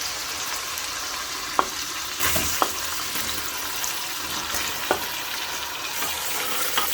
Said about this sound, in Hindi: तो इसको भी हम अच्छी तरह से इसको भून लेंगे